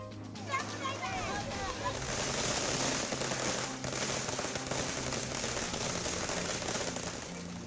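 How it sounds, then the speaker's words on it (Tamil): Firecrackers burst in a political celebration, a dense, continuous crackle of rapid pops that stays loud and steady throughout, with faint whistling squeals early on. "இடைத்தேர்தலில் டெபாசிட் பெற்றதையே பட்டாசு வெடித்து கொண்டாடிய பாமகவினர்."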